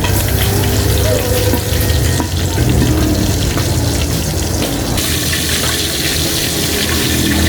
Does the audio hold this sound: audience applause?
no